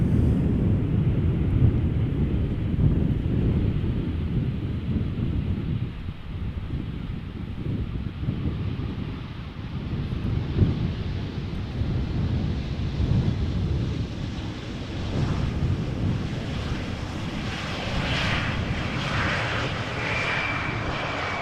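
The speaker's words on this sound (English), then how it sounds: "now Embraer 190 arriving from Bologna is what we are seeing right now" Embraer 190 jet arriving at Amsterdam Schiphol from Bologna, a loud steady engine roar and rushing wind noise that stays close throughout, with a brighter whine building toward the end.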